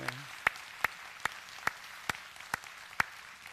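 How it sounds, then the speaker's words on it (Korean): A church congregation claps in welcome for a retired pastor and his wife, heard as a sparse run of about eight crisp, evenly spaced claps over a quiet room. "우리 박수로 한번 환영하겠습니다."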